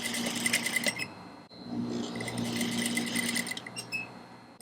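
An industrial sewing machine stitching corset seams, its motor whirring in short close bursts with brief pauses, as if slowly walked along the fabric.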